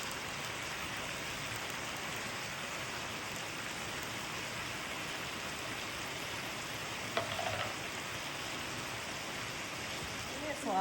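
Beef bulgogi with vegetables cooking in a pan, a constant soft hiss like light rain, fairly faint and even, with a brief clatter near the end; no clear voices.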